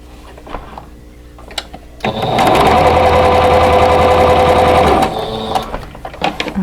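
A sewing machine stitches light background fabric to medium quilt pieces for a scrappy arrowhead block, running in one loud, fast, steady burst of about three seconds between quieter handling sounds.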